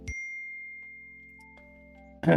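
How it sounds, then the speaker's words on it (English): A chiming notification ding rings out on a livestream: a bright tone at the start that lingers and slowly fades, with a second softer chime midway and a louder burst of sound at the very end. "Thank you for the notification, chat."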